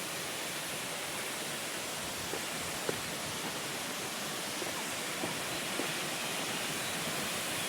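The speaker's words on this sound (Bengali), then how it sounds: "ওই যে উপর থেকে ঝর্ণাটা নামছে, প্রচুর জল আছে" Chhange Waterfall pours down from a great height, roughly 150 feet, with plenty of water, making a steady, dense roar of falling water that holds unbroken throughout.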